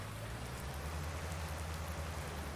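Rain falling in the farming video game Farming Simulator 19, a constant dense hiss of drops with a low steady rumble underneath, even and unbroken throughout.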